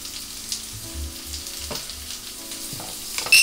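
Spices sizzle softly in hot oil for a kari masala curry while a utensil stirs and scrapes the pan in a few short, uneven strokes, fairly quiet and close.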